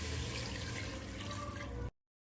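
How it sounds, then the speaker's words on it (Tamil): One litre of water pours into a pot for mutton soup in a steady, close splashing rush for about two seconds, then cuts off abruptly into silence. "இப்போ 1 லிட்டர் தண்ணி சேர்த்துக்கலாம்."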